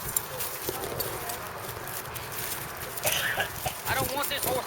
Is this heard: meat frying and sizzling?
no